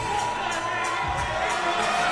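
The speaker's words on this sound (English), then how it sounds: "A raucous crowd, as you can hear" A raucous crowd cheers at a boxing fight night in New York, a dense roar of voices with whoops and shouts rising and falling, loud and continuous.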